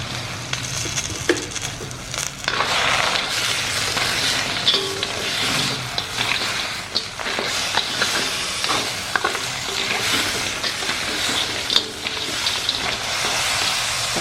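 Crab frying in a little cooking oil in a pan, a loud close sizzle with frequent scraping and stirring clatter, continuous and busy with no talking.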